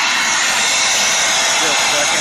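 A Shark vacuum cleaner runs loud and steady with a strong, broad rushing whine of suction throughout, close to the mic.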